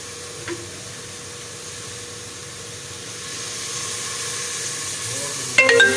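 Onions and tomatoes sizzling in ghee in a pan for a beef recipe, with a steady close frying hiss that grows slightly louder and ends in a brief clatter.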